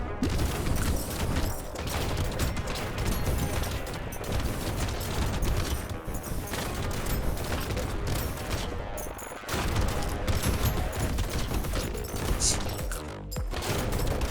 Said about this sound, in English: Things just explode. Then bullets going everywhere.